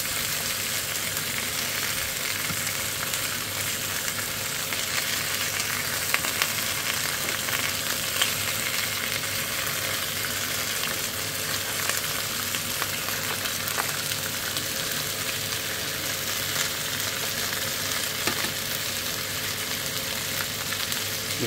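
Goat meat browning in a frying pan for a goat curry, with a steady, loud sizzle and spatter that holds evenly throughout, alone and without talk.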